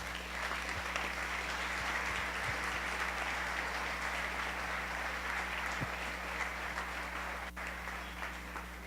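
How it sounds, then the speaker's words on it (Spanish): Church congregation applauding during a Sunday service, a steady wash of clapping that fills the whole stretch alone, with low hum underneath. "Denle un aplauso al Rey"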